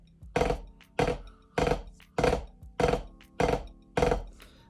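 Seven evenly spaced bass drum hits from a drum line playing fast notes, each stroke soft and muted rather than full, in a steady repeating pattern with no talking.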